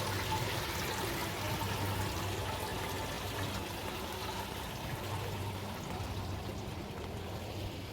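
Water at a swimming pool gives off a steady, close rush of splashing and trickling that holds at an even level throughout, with no voices.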